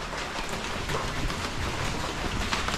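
Steady rain falls in a dense, even hiss of many drops, close and unbroken for the whole short stretch, with no voices.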